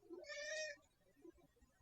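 A house cat gives one short, faint meow nearby at the start, and quiet room sound follows.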